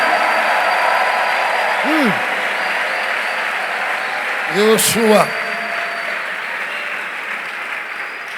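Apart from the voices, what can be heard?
applause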